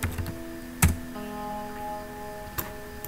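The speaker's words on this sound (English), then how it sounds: "Let's type something like fate." Keys click on a computer keyboard in a few scattered, sharp taps with pauses between, close and fairly quiet over a faint steady hum.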